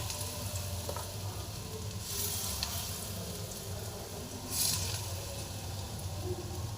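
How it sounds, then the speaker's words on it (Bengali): Oil sizzles and crackles steadily as potato peel fritters fry in a pan, with a couple of brief louder hissing bursts. "এক পাশটা ভাজা হোক।"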